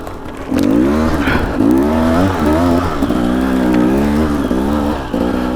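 Motorcycle tires slipping on slick, slippery ground, heard as a loud continuous engine drone with shifting pitch and rough scraping under it, close and steady throughout.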